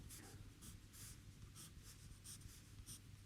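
Pencil scratches across paper while a simple cube is drawn, making short, close, quiet strokes in an irregular rhythm of separate scratchy bursts with no talk.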